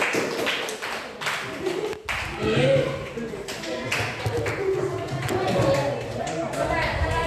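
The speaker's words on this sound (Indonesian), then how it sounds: "kita beri tepuk tangan untuk kelompok ini" A classroom audience claps for a student group after their presentation, a steady spread of many hands patting together for several seconds, with voices murmuring underneath.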